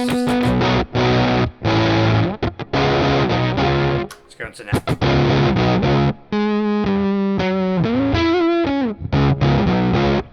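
Thick, woolly overdriven electric guitar chords and bends from a bridge humbucker through an EHX Germanium overdrive, with a saturated, creamy tone, loud and close, with a brief spoken remark in a pause.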